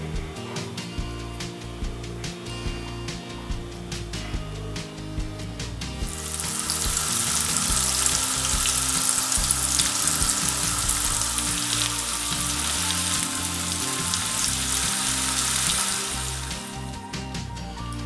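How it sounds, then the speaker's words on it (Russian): Steady, loud sizzling of flour-coated egg and corn patties frying in a pan, growing hissier and more intense partway through, with no voices. "и обжарим на сковороде."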